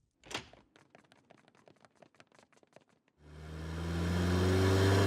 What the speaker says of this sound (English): Dad's car is coming!